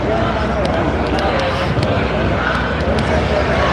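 A large, tightly packed crowd gathers outdoors at a Free Iran rally in Toronto, making a dense, continuous babble of many voices with scattered louder calls.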